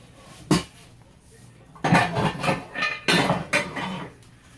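Metal pot lids clatter and clank in several bursts, a single knock first, then a run of rattling handling nearby.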